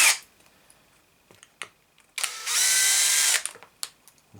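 A power drill bores through velcro in one short burst of about a second, a loud high whine close by, framed by small clicks and handling sounds in otherwise quiet surroundings.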